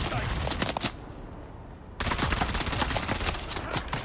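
Rapid gunfire in the Dune: Awakening video game, dense bursts of loud close shots that stop for about a second and then resume as continuous rapid fire.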